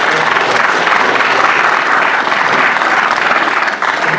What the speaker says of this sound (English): You definitely deserve a round of applause.